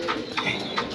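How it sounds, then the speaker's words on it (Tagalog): Pigeons kept for racing feed close by, with short soft coos and light fluttering pecks repeating in a quick, uneven rhythm. "papakainin ko muna yung mga kalapati ko"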